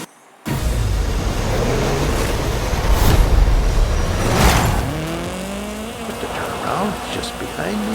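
A level 7 Ferrari in a video game starts up abruptly and roars with a loud, continuous engine drone that climbs in pitch as it accelerates, mixed with rain-like hiss and a voice talking over it.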